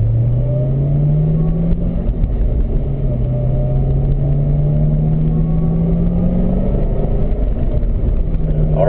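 A 2011 Corvette ZR1 accelerating on a race track, heard from inside as a loud, steady engine drone rising in pitch through the gears, with a brief drop at a shift.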